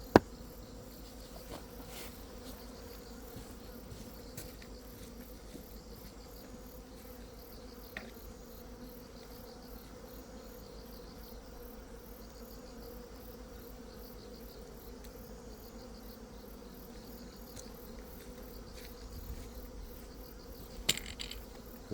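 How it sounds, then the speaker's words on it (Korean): Honeybees buzzing around a plant giving off a sweet smell, a steady insect drone held throughout with a few faint clicks and bumps, no voices. "그래서 PO2 주변에 꿀벌이 모여드는 건 아마 그 단내 때문이 아닌가."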